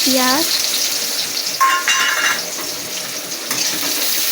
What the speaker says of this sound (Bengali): পেঁয়াজটাকে একটু লাল করে ভেজে নেবো আমি